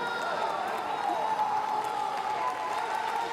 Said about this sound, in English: Delight from the Spaniards in the crowd.